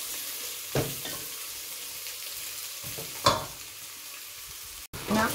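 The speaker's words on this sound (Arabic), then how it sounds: "هنا نبقى حتى اللحم تاعي يتحمر لي، ملي كل اللحم مقلي هكذا خلاص" Pieces of veal fry in a pan for an Indian veal curry, giving a steady close sizzle with a few louder stirring scrapes and clinks breaking through.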